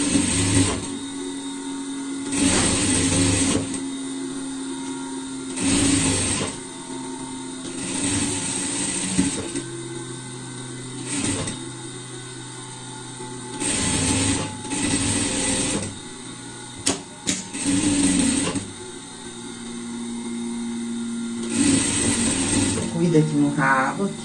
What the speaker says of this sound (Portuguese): É só passar uma reta aqui